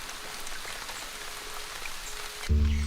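Heavy tropical rain pours steadily through a Cuban forest, a dense close hiss of drops on leaves, with a deep low rumble swelling in for the final half second.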